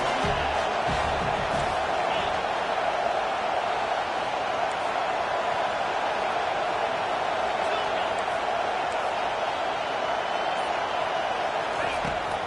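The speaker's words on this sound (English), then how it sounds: "Big third down as the crowd gets behind this defense." Stadium crowd at a USC versus Wisconsin football game, a dense sustained roar of cheering and noise steady throughout, loud and continuous with no clear breaks.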